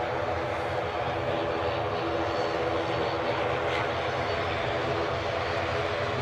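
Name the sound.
airliner starting its takeoff roll at Newcastle airport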